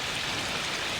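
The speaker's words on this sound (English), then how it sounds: "It's raining." Rain falls beside a koi pond, a steady broadband hiss with no pauses or voices over it.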